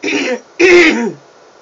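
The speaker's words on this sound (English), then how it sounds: "I want to keep having to clear my throat" Two harsh throat clearings close together, the second louder and longer, with no speech around them.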